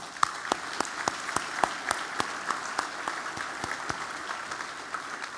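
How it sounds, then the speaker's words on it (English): Round of audience applause at a county chamber annual dinner, scattered sharp claps over a steady wash of clapping, moderately distant and holding evenly throughout. "a big round of applause for you"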